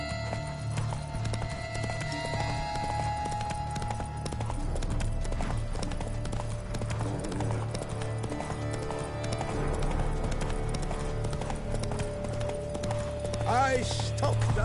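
Roach, a horse in The Witcher 3, gallops with rapid rhythmic clip-clop hoofbeats throughout, close and steady, with game music and brief voices in the background.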